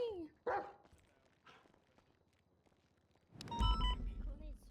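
A dog in a roleplay video game gives a couple of short barks and yips, then a burst of barking near the end, with game sounds and voices mixed in.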